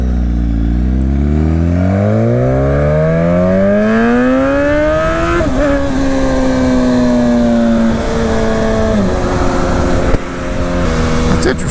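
The engine of Muttley, a motorcycle built from parts-bin pieces, revs up close and loud, its pitch climbing steadily and then holding a high, slightly wavering note before a blip near the end.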